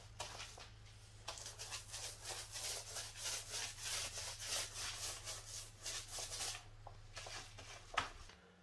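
A Venetian trowel scrapes freshly applied plaster off a wall in quick back-and-forth strokes, a close, rhythmic rasping that pauses briefly near the end, ending in a small knock.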